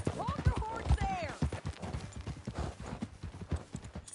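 Horse hooves clip-clop steadily in Red Dead Redemption 2, a rapid run of close, loud strikes on the ground beneath a voice and other game sounds.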